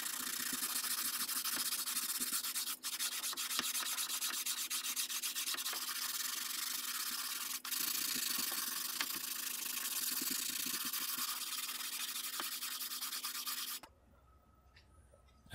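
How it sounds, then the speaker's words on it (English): Coarse sandpaper wrapped on a block rubs steadily over a wooden military rifle stock, a continuous close scratching with two brief pauses, then stopping near the end. "I'll go over it with coarse sandpaper on a block"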